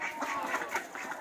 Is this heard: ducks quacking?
yes